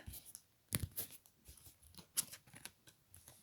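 A deck of cards being cut and handled, with a string of quick crisp papery flicks and snaps at close range, uneven in rhythm and fairly quiet.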